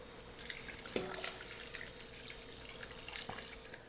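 Water poured into a Dutch oven over sauerkraut in a home kitchen, a soft steady trickle and splash with a few faint clinks.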